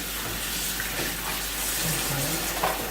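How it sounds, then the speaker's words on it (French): Cold tap water runs into a basin, a steady splashing rush close by, with faint murmurs in the background. "Là, je mets l'eau froide."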